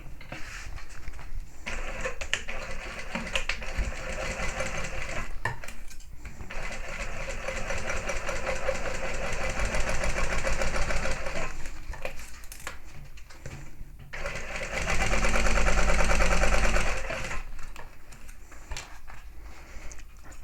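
A sewing machine stitches a 3/8-inch seam on a handbag, running in long steady bursts of rapid mechanical whirring and ticking that pause briefly and then speed up again, close and clear with no talking.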